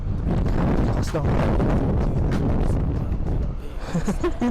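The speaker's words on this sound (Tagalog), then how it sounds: "Grabe, lakas ng hangin, guys." Strong wind roaring against the microphone while riding a motorbike, a loud, continuous blustery rush with gusts, with some voice mixed in.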